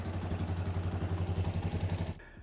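Yamaha Warrior 350 ATV engine running close up with a steady, rapid pulsing thump and clatter, then stopping abruptly just before the end.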